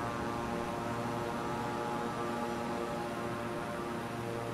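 An airplane climbing after takeoff in Microsoft Flight Simulator gives off a steady, loud engine drone with a constant hum and airy roar, unbroken and with no talking.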